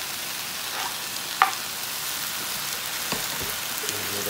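Vegan chicken pieces and fresh tomatoes frying in a pan give off a steady, even sizzle, with a couple of faint clinks and no voices.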